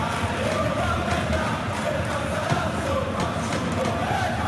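Stadium crowd in a FIFA-style football match at Lazio, a continuous dense roar of many voices with swelling chants, steady and loud throughout.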